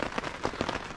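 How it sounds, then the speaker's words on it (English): Rain patters steadily and densely on a surface at a campsite, with many close, soft drops forming a continuous hiss and no voices. "I woke up to the sound of rain"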